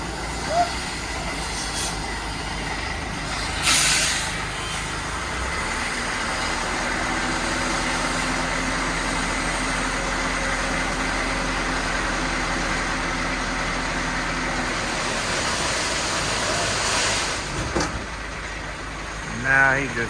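A truck idles and rumbles steadily while dumping road material on a rural road build in Valencia, Philippines, with a low continuous engine drone and a few louder knocks.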